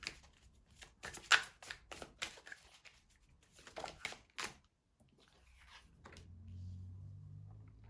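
Tarot cards are shuffled in quick bursts of crisp riffling and flicking, close and fairly quiet, followed by a short pause and a low hum.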